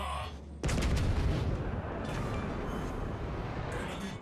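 Heavy gunfire and booming blasts from a naval battle video game roll on continuously after a sudden loud onset, dense and sustained with a faint voice mixed in.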